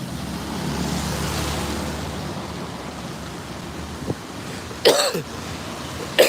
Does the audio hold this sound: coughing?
yes